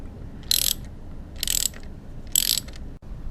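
Three short bursts of ratcheting from a hand ratchet loosening a bolt on a Honda CBR 600RR motorcycle during a coolant flush, each about a quarter second, evenly spaced and close, with no voices.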